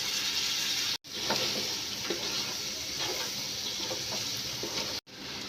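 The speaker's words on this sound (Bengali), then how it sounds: "আলুও আমি এদের সাথে দিয়ে ভাজা নেব একটু" Potatoes frying in a pan with greens and shrimp, a steady close sizzle with faint stirring scrapes, continuous apart from two brief cuts.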